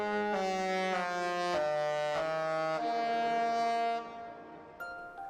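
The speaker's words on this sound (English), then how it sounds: "the Disney Cruise Line blasts the first notes of the song out of the ship's horns when sailing away." A Disney Cruise Line ship's deep horns sound the opening notes of a song as the ship sails away, a series of loud, sustained, brassy tones stepping through the melody before the last note fades.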